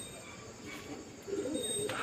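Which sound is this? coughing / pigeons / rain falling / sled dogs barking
pigeons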